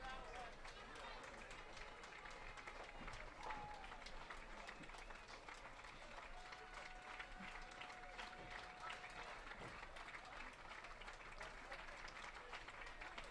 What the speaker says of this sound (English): The crowd voicing their support as Hamilton delivers the 0-2 to Stevens.